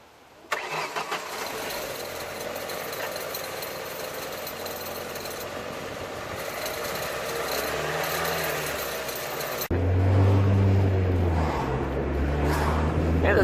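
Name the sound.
car engine running with an annoying rattle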